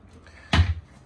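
A large, deep, wide low drawer in a motorhome kitchen slides and bumps shut, one short close thud after a faint rustle.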